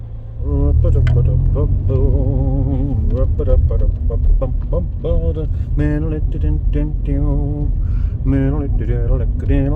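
Steady low engine rumble of a car being driven, constant and close throughout, with a person talking over it the whole time.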